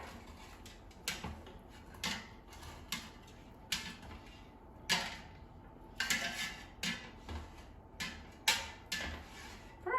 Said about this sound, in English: now let me take them out of the air fryer